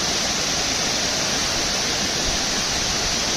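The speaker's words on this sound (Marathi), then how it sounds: "धबधबा बघताय तुम्ही आणि पाण्याचा आवाजसुद्धा येत असेल तुम्हाला" Rushing water from Savatkada waterfall near Rajapur in the Konkan pours in a constant, loud broadband roar, with the flow lighter than usual for lack of rain.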